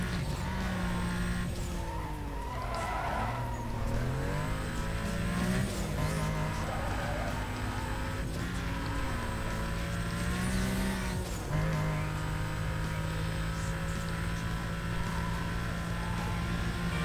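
Porsche Cayman engine racing in the Need for Speed: Most Wanted game in Rockport, a loud continuous roar rising and falling through gear shifts, with tire squeals and skids, accompanied by game music throughout.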